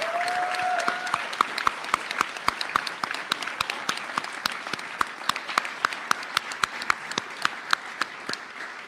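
Sustained audience applause fills a hall at an outstanding achievement awards ceremony, dense steady clapping with sharper individual claps standing out, continuing at an even level throughout.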